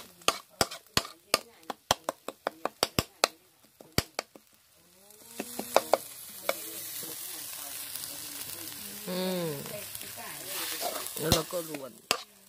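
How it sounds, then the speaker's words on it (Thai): Fish larb being dry-stir-fried in a pan over a wood-fired stove, opening with a run of sharp, regular utensil taps and scrapes, then giving way to a steady close sizzle with scraping strokes and brief voices over it. "อุ่นลาบปลาให้มันแห้งๆนะตอนนี้มันแฉะๆไม่ชอบนะคะ เราชอบกินแบบแห้ง ๆเห็นไหม คั่วคั่วคั่ว"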